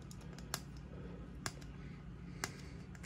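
A Leatherman Wave Plus multitool being unfolded, three sharp metallic clicks spaced about a second apart over quiet room background, close and faint.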